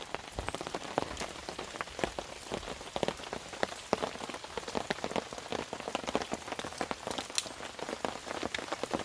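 Steady rain falling hard through a forest in North Carolina, a dense patter of drops striking leaves and ground, with no voices over it.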